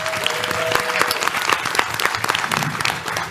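Applause from a live podcast audience at PAX West 2023, a thick continuous patter of many hands clapping at steady loudness, with no voices on top.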